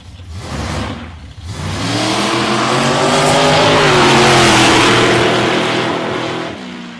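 A drag race car at South Coast Raceway roars close and loud, its engine climbing in pitch through a sustained full-throttle run that lasts most of the clip before cutting off near the end.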